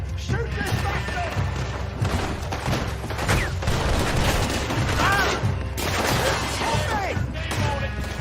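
Rapid gunfire in Red Dead Redemption 2, a dense loud barrage of shots and impacts running throughout, with shouting voices mixed into the chaos.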